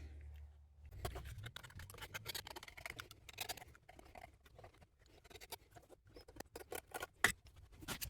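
Leather being trimmed with scissors for a hunting knife scabbard, a quiet close series of irregular snips and scratchy cuts with small handling noises, fairly faint and no voices.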